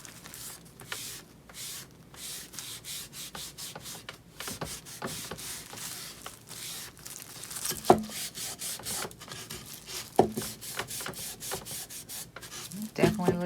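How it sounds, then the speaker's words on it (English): A scrap wood piece is wiped by hand with repeated soft, dry rubbing strokes, close up and fairly quiet, with a few sharper scuffs along the way. "Kind of wipe this piece."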